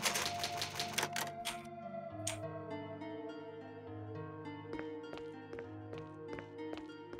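Typewriter save with an ink ribbon in the Resident Evil Remake, a rapid run of crisp mechanical key strikes over a low musical drone, then slower spaced clacks toward the end.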